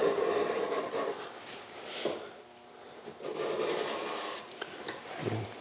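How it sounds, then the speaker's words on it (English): A Sharpie marker scribes around a part's perimeter, giving soft rubbing scratch strokes in uneven bursts, close and quiet, with pauses between passes. "So I'm gonna take the Sharpie and just scribe that perimeter"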